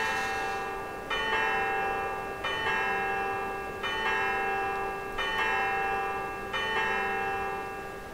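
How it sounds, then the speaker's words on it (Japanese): A church bell in the Syberia video game, rung by an elaborate clockwork mechanism, strikes five times at a slow, even pace, each bright metallic stroke ringing out over a steady mechanical hum. "鐘を鳴らすだけに"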